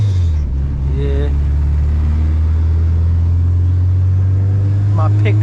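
A supercharged K24 Honda car drives along with a loud, steady low engine and road rumble throughout, while voices speak briefly over it.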